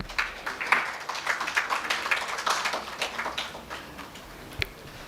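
An audience claps through a student prize felicitation at an education symposium, a moderate, steady patter of many hands that tapers off near the end.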